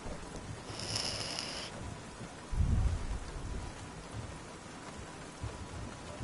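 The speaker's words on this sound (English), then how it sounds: "with the rain coming down as hard as it is" Heavy rain pours steadily in the F1 2019 racing game, a constant hiss with a low rumble of thunder midway and a brief high tone near the start, no talk.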